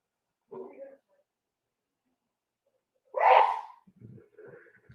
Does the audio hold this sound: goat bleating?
no